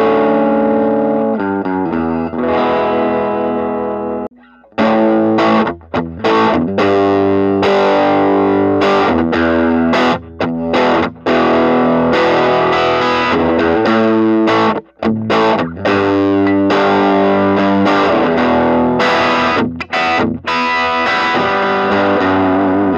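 A 1980 Gibson Sonex 180 Deluxe electric guitar plays loud, distorted chords and riffs through effects, with a few brief stops between phrases and no talking.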